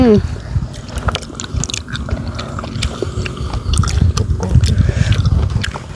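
Boiled field snails are chewed close to the microphone, with wet crunching bites and squishy chewing repeating irregularly while a person speaks briefly in between.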